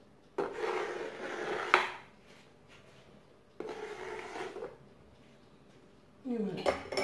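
Knives work through orange cake batter in a dish, giving three separate bursts of close scraping and rasping against the dish, with quiet gaps between them.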